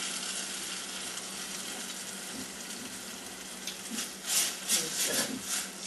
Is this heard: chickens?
no